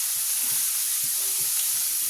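Lentils for khichuri sizzle as they fry in a pan, a steady, close, bright hiss with faint soft stirring bumps underneath and no talking.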